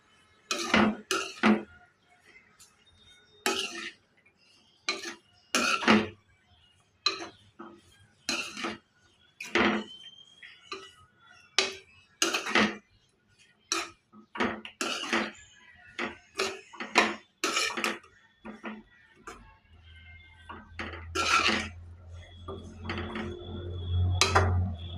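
Amaranth leaves are stirred in a metal cooking pan, making repeated irregular spatula clanks and scrapes close up, and a low steady hum joins near the end.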